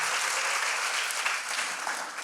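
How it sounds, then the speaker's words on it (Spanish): A church congregation applauds God loudly: dense, steady clapping from many people fills the whole stretch, close and full with no breaks. "si le vas a aplaudir a Dios, hácelo fuerte?"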